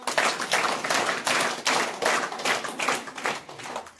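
People clap in welcome at a 79th Independence Day celebration at a primary school in Odisha, a brisk, dense patter of many hands, fairly close, continuing without pause and with no talk.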